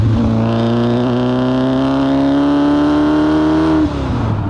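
A 1996 TVR Cerbera V8 engine revving up to about 4,000 RPM, a loud, close, sustained throaty tone that climbs steadily and then drops off, with no talk.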